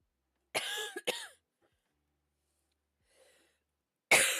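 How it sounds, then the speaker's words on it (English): Close, harsh coughing comes in a quick pair of fits, a faint breath follows, then another loud cough starts at the end. "The cough is really irritating."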